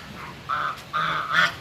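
Ducks quacking in an outdoor pen at a temporary prison site in Trat province, Thailand, with two or three drawn-out nasal calls in quick succession, fairly close and clear, with no talk over them.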